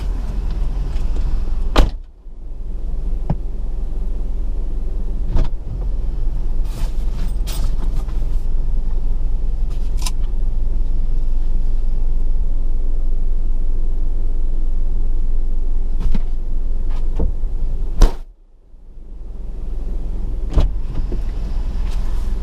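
A delivery courier's car driving a short urban route, heard as a steady close engine and road rumble from inside the cabin, broken by a few clicks and two brief dips where the drone drops away.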